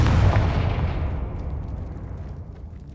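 A Confringo spell explosion in a video game: one loud, close, low boom that hits at once and then rumbles and fades away over a few seconds, with no voices.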